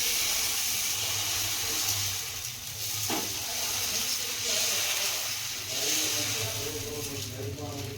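Dosa batter sizzling on a hot pan as a fresh dosa cooks, a steady close frying hiss with faint scraping and a low hum underneath.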